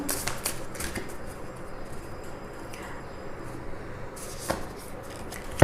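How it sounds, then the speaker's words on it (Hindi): Tarot cards being shuffled and a card drawn, a soft continuous riffle and slide of cards with a few sharper flicks at the start and near the end, close and quiet. "मैं रैंडमली एक कार्ड निकालती हूँ"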